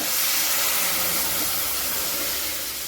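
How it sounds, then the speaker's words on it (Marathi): Cold milk poured into a hot pan of roasted vermicelli for sevai kheer gives a loud, steady hissing sizzle that runs unbroken throughout, with no voices. "आपण आता हे थोडं गरम करून टाकायचं आहे दूध तिथे आपण हे दूध टाकून घ्यायचं आहे"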